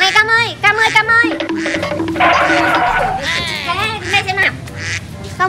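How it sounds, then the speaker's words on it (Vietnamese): Ducks quacking loudly and rapidly as a child chases them outdoors, with repeated close honking quacks and a voice mixed in. "em Cam sao lại đuổi vịt thế kia nhỉ?"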